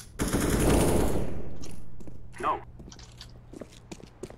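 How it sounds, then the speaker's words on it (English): Suppressed guns firing in a video game: a burst of close, dense gunfire rattles at the start and fades, then a few sharp scattered shots follow, with people talking briefly over the action. "these suppressed guns are insane"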